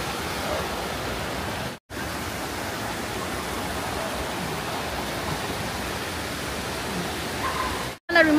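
A waterfall rushes in a constant broadband roar close by, steady and unbroken apart from two brief cutouts.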